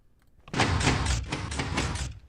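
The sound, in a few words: door opening in video game Minecraft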